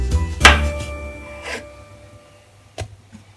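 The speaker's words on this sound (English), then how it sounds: "Gillian is cutting mushroom" A knife cutting mushrooms on a board while making creamy beef and mushroom, a few sharp separate chops close by with quiet pauses between them.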